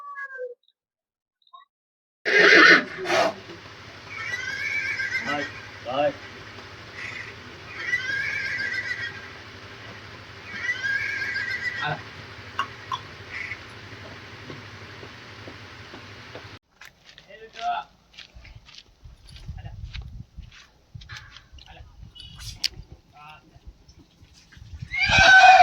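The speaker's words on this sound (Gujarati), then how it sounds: "તે પોતે વાળી ઘોડો છે." A stallion in Vijpadi, Gujarat gives several loud, drawn-out neighs spaced a few seconds apart, then quieter shuffling and handling noises, with people talking around it.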